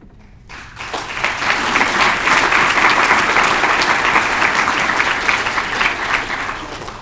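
A large conference audience of about a thousand business people breaks into applause, swelling quickly from quiet into dense, sustained clapping that holds steady and then slowly eases.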